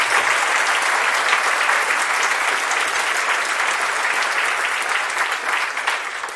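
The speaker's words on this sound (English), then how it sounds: "let's also welcome him with a warm applause, with a warm hand" A lecture audience claps steadily for a speaker being introduced, a dense, even wash of applause from a full room that holds loud for several seconds before easing slightly at the end.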